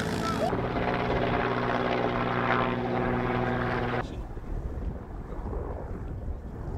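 A military helicopter hovers during parachute training jumps, a loud, steady rotor drone with strong engine tones and wind buffeting that cuts off abruptly partway through, leaving a quieter windy rumble.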